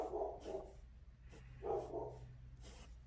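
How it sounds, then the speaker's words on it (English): A pet dog barks in the background at home, two separate bursts of barking a second or so apart, moderately loud against a quiet room. "Excuse my dog in the background."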